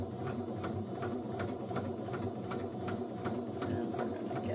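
Sewing machine stitching a seam on a zipper coin pouch, running steadily with an even, rapid needle rhythm, close and moderately loud, alone without talk.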